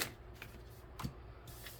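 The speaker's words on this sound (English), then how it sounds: "Try an extra shuffle and see if that helps." Tarot cards being shuffled by hand, a faint, soft riffling with a few light snaps in a quiet room.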